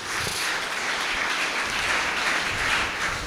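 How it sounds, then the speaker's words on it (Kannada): A lecture audience claps together for the elders, a dense, steady round of applause filling the whole few seconds without speech. "ಆ ಹಿರಿಯರಿಗೆಲ್ಲೊಂದು ಚಪ್ಪಾಳೆ ಕೊಟ್ಟು ಗೌರವ ಕೊಡಿ ಮೊದಲು"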